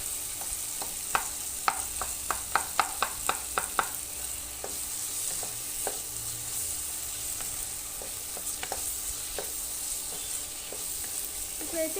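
A spoon stirs mushroom and cashew curry with tomato in a pan, making a run of sharp taps and scrapes, quick at first and then sparser, over a soft, steady sizzle.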